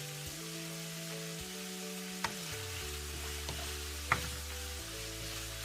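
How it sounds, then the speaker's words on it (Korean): Seasoned duck meat frying in a pan as soy sauce is poured in, a steady close sizzle with a couple of sharp clinks and a brief flare of hiss, no talking. "Now pour the soy sauce little by little."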